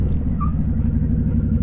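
A 2015 Harley-Davidson Night Rod Special brakes hard on the road for an ABS test, heard as a steady, loud low engine and road rumble running close and unbroken throughout, with no talk.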